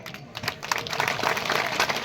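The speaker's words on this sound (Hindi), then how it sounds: "इनका तालियों से स्वागत करिए।" Village crowd applauding a visiting minister, a steady wash of many hands clapping that builds and holds loud throughout.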